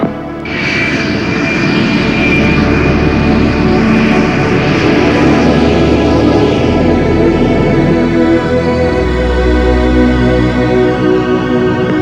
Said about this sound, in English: Boeing 757 clear to takeoff, runway 33, wind 180 at 24.